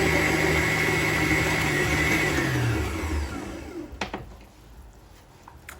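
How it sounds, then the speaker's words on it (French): A stand mixer kneads chocolate vanilla brioche dough with a loud, steady motor whir that winds down and stops partway through, followed by quieter clatter and handling noises. "On va arrêter le robot."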